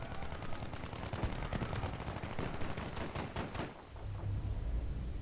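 A Battlefield V machine gunner fires on a battlefield in rapid sustained bursts, the dense rattling peaking midway before thinning into a low rumble near the end, loud and fairly close.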